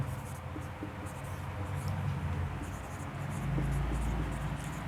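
Pen or marker writing in blue during a physics lecture on sign convention, a soft continuous scratching of the tip across the board or page, close and steady under a faint background hum.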